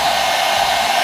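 A hair dryer blows continuously and loudly at close range while hair is styled, a steady airy whoosh with a high motor whine and no breaks.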